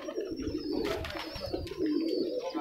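Teddy pigeons in a sale loft coo in low, repeated bursts, with a thin high whine running faintly behind them and some rustling mid-way.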